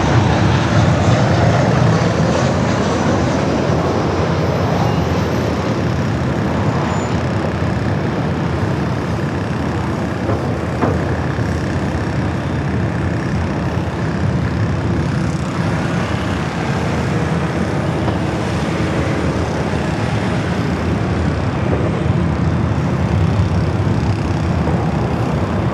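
A loud, steady jet engine roar from an airliner beginning its takeoff roll on runway 24L at LAX in Los Angeles, a broad sustained rumble holding throughout without any talk.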